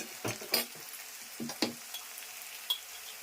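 Diced potatoes frying in oil in a pan just after prawns, a steady soft sizzle broken by a few sharp stirring scrapes and clatters, close and quiet.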